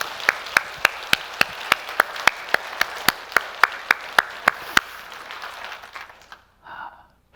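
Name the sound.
congregation applause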